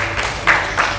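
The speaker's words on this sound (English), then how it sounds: "big round of applause for him as well once again" Audience applause for an honoree at an NSE event, a steady broadband wash of clapping with two brief louder swells, moderately close and without talk over it.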